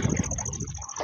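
A brief swish and splash of water as someone steps into a pool at an outdoor swimming spot, close and fairly loud, with no talking.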